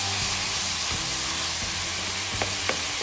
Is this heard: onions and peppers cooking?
yes